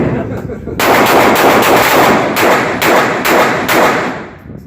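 Handgun shots crack at an outdoor shooting range during concealed-carry training, about five or six loud, close reports in an uneven sequence over steady background noise.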